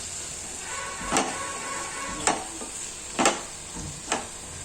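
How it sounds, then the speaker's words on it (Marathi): Ground peanut powder being stirred into a tomato chutney in a pan, giving a few separate scraping strokes about a second apart over a low steady hiss, close and fairly quiet. "थोडी चांगलं मिक्स करून घेऊ।"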